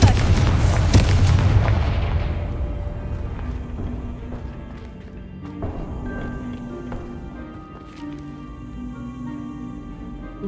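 In the Hogwarts Legacy video game, the Confringo fire spell sets off a loud, booming explosion that rumbles and fades over several seconds, followed by softer crackles and scattered pops.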